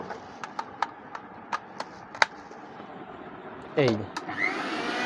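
A Disney-brand electric blender with stainless steel blades runs with a steady motor hum behind a series of sharp clicks, and someone talks over it near the end.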